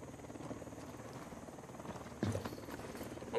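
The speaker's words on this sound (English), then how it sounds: "Un hélico de Unidad, profil bas." An Unidad helicopter in a video game drones steadily at moderate loudness, its rotor hum continuous throughout, with a brief louder clatter near the end.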